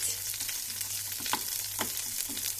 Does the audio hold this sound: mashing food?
yes